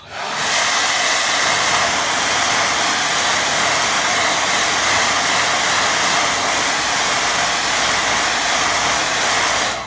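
A hair dryer blows steadily on a watercolour painting, a continuous close, loud airy whoosh with a hissing rush that holds level from start to finish.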